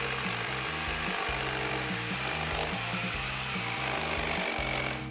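Steady rhythmic sawing of excess wood during a room makeover build, a continuous loud rasping stroke pattern repeating throughout with no voices.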